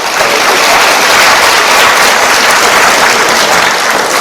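Students in a university economics lecture hall clap together in a loud, sustained burst of applause that lasts several seconds without any talk.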